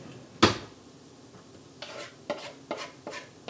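A sour cream base goes into a pot of liquid coming to a boil for Hungarian Hortobágy crepes, with one loud clunk of a utensil against the pot followed by several soft stirring scrapes and faint sizzling.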